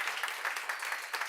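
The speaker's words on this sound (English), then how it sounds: "Big applause for the jury." Applause for the jury at the Falling Walls Science Summit, a modest round of hand clapping from an audience, heard somewhat faint and distant, with a steady patter of claps.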